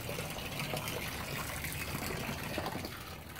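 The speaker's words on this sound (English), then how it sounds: "The sump pump will drain." Water gushes and trickles steadily out of a sump pump lifted from an overflowed septic tank, a close continuous splashing flow with no pauses.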